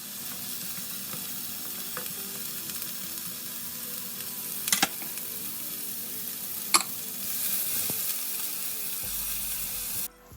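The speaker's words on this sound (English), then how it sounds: "In a medium heated pan, add olive oil and then saute the onions until they get translucent" Onions sauteing in olive oil in a medium-hot pan give a steady soft sizzle, broken by a couple of sharp clanks and stirring scrapes, ending in an abrupt cutoff.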